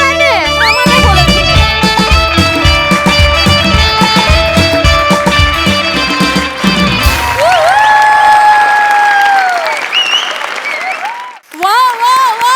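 A studio audience breaks into loud applause at a Marathi comedy show, a dense wall of clapping for several seconds. Music plays under it, then a voice speaks over fading claps and swelling music.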